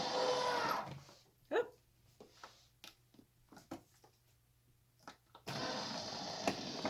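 A sewing machine feeding fabric runs in a steady close whir, stops for a few seconds of quiet broken by small clicks and handling knocks, then starts whirring again.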